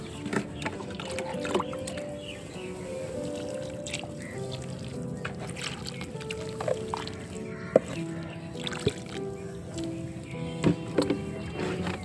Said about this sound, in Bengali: আমি এবার ভরপুর জল দিয়ে দেবো